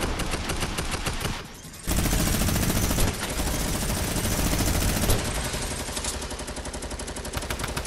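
Gunfire in the video game Fortnite Battle Royale fills the clip with loud, dense automatic bursts, pausing briefly near the start and then resuming in heavy, sustained volleys without talk.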